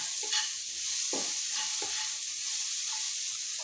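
Salted prawns fry on low heat in a pan for Thai salt-and-chili prawns, a soft, even hiss of sizzling broken by a few scraping stirs, with no voices.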